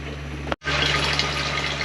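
Steady, loud rush of water running from the faucet of a SimPure 5-stage reverse osmosis filtration system with built-in booster pump, broken by one very short gap before the flow resumes evenly.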